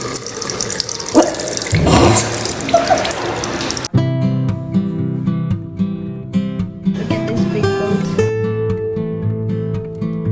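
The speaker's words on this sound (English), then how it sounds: "Let's wash our hands." A hotel bathroom sink tap runs as hands are washed, water splashing steadily and close for a few seconds before the scene cuts to music.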